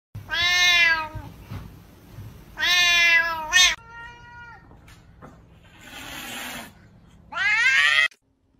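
A house cat meows loudly and insistently in four long, drawn-out calls separated by pauses, close to the listener, with no talking.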